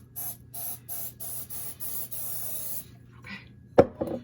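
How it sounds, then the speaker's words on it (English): Cooking spray hisses onto a pan before sugar cookies bake, in about six short, even bursts, followed by a faint rattle and a sharp knock or clatter near the end, with no talk. "let me spray real quick"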